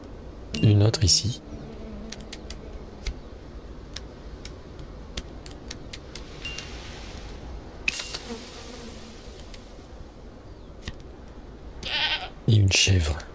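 A goat in the nature-building game Preserve gives two short harmonic bleats, one near the start and one at the end, over a steady buzzing insect and bee ambience.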